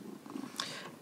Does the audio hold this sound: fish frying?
no